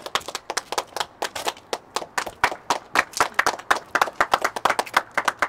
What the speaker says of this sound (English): And a round of applause for Officer Gonzalez.